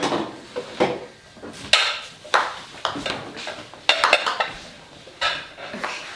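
Bowls, including a coconut bowl, are handled while a kitchen is cleared out, giving a series of close, irregular clinks, knocks and clatters with short pauses between them and no talking.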